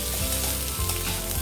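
Chopped capsicum sizzles loudly as it is stir-fried for chilli soyabean, a close, dense crackle with brief scraping stirs and no talk.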